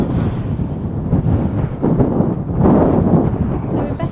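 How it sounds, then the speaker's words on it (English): Strong, steady wind buffets the microphone on a Scottish road trip, a loud continuous roar with gusty surges and no clear pauses. "Wind is that fresh, actually."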